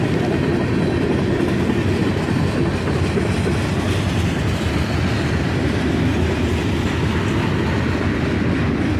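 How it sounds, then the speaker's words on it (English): A CSX freight train led by two GP38-2 diesel locomotives, full length, rolls past steadily and loudly with a dense, continuous rumble and rail noise, no pauses and no voices. "with two GP38s leading, that this would be a short local train"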